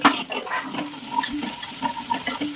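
Garlic sautéing in a hot pan for vada pav filling, a loud continuous sizzle with scraping stirring strokes repeating across the clip.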